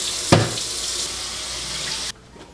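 A pizza pan is washed under a running kitchen tap, with a steady, close hiss of flowing water and a sharp knock of the pan near the start before the water cuts off abruptly.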